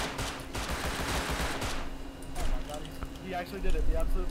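Rapid video game gunfire as a player kills an enemy with a headshot, a dense burst of shots in the first half followed by softer clatter, close and loud with voices talking over it.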